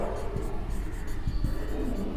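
Pen or pencil scratches across paper as a final answer for a Class 8 maths percentage-profit problem is written out, soft continuous strokes with small taps, close and quiet beneath a steady background hum.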